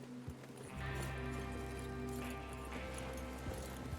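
Horses galloping in the western video game Red Dead Redemption: a steady, close run of clip-clop hoofbeats over a low rumble, with a faint whinny mixed in.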